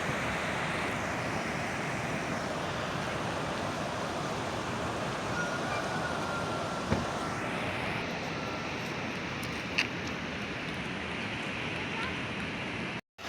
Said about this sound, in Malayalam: വെള്ളത്തിൻ്റെ ഒരു വരവും പോക്കും ഇത് ഭംഗിയാണ് കാണാൻ വേണ്ടി